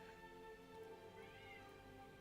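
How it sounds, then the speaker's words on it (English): A male pet cat howls and meows insistently for attention indoors, drawn-out caterwauling calls that come through quiet and soft. "I have a cat who's howling at me for attention."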